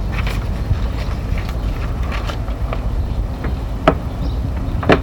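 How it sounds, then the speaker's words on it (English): Wind blows outdoors on a breezy Sunday afternoon, a steady low rumble of buffeting against the microphone with a few faint clicks and knocks over it. "Can you tell that the wind is screwing up my mojo?"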